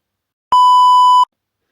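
A phone sounds a single loud, clean electronic beep for a text message, a pure steady tone lasting under a second against silence.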